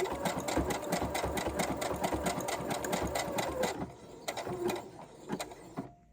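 A sewing machine runs a zigzag stitch down a seam on crochet trousers, with a fast steady mechanical chatter for nearly four seconds, then slowing into a few short bursts before stopping.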